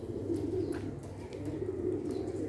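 A pigeon cooing in low, soft, repeated rolling calls, close by and steady, with no one speaking.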